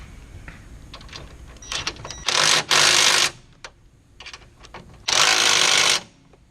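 An impact wrench drives chrome sockets onto the bumper bolts of a 6.7 Powerstroke truck, firing three loud, buzzing bursts of around half a second to a second each, separated by quieter clinks and handling noise.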